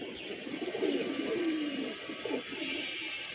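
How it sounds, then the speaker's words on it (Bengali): Pigeons coo in low, rolling bursts nearby while some of the flock settle and land, with a faint hiss of wind and outdoor ambience behind them. "কবুতরগুলো উঠতেছে, 2টা কবুতর বসছে, আর এই যে বাকিগুলো বসার জন্য প্রিপারেশন নিতেছে"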